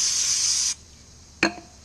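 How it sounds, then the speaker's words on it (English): A steady brake cleaner aerosol spray hissing for under a second onto a rag, then stopping, followed by a short clink of a can. "take yourself some brake cleaner and do not spray it in there,"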